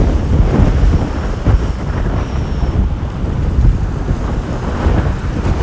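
Strong wind buffeting a microphone outdoors at sunset, a continuous loud low rumble with gusty surges throughout and no voices.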